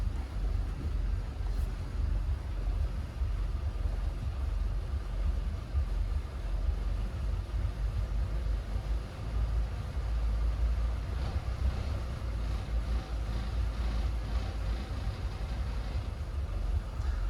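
Twin inboard engines of a Sealine S34 motor boat run with a steady low rumble near the microphone, with a slight rise when revved, plus some wind buffeting and no talking.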